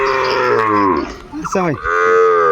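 Loud, close cattle moos ring out at a market for Shahiwal and Friesian bull calves, several long drawn calls one after another with little else around them.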